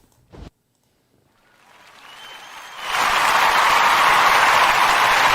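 Applause after the Ahmaud Arbery trial verdict, a brief knock and silence, then clapping that swells gradually into loud, dense, sustained applause from many hands.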